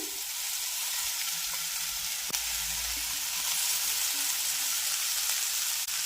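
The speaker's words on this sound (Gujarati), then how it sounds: "ટમેટાને મિક્સ કર્યા પછી આપણે મસાલાવાળા કરેલા ભાત છે એને ઉમેરી દઈએ" Spiced leftover rice and tomato being stirred in a frying pan, with a steady, dense sizzle throughout and a few faint scrapes and a soft knock from the stirring.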